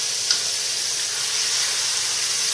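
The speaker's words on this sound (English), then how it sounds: "I'm going to move my steaks over to the edge of the pan" Elk chops, referred to as steaks, sizzle steadily in a frying pan on a lowered burner, a constant soft hiss close by with no talking.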